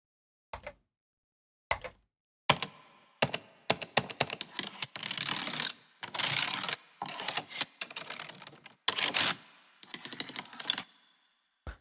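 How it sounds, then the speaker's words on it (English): A computer keyboard is tapped as homemade percussion, sharp close clicks coming first in sparse single hits and then in fast dense runs of rattling keystrokes separated by short silences, no voices. "That's a keyboard, like a typing keyboard."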